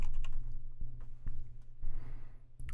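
Computer keyboard typing while playing Minecraft, a handful of close, crisp key clicks in a quick irregular run over a steady low background hum.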